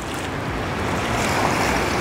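Waves wash along the Danube river near Bratislava, a steady broadband rush of water with wind buffeting the microphone, continuous and fairly loud throughout without any voices.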